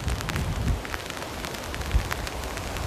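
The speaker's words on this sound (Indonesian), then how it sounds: "masih gerimis" Light drizzle falling at a riverside campsite, a steady fine patter with scattered soft drops hitting surfaces, even and continuous with no voices.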